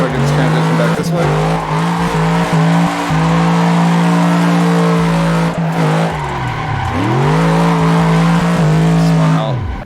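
Car in a sim racing video game spinning out, its engine droning steadily with a sharp pitch dip and tire squeal mid-spin before revving back up, loud and continuous throughout.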